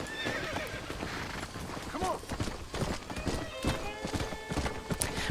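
A horse in Red Dead Redemption whinnies and trots nearby, a loud neigh over a steady clip-clop of hooves, with someone talking over it.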